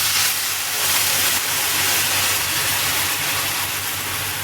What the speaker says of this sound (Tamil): இப்போ அந்த புளி கரைச்சி வச்சுருக்கேன், அதை விட்டுக்கிறேன்.